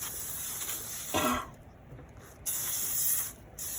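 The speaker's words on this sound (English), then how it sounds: "Once you get them lathered down, we're going to spray them off again." A garden hose sprays water to rinse a lathered horse, giving a steady close hiss that breaks off and then returns in short bursts.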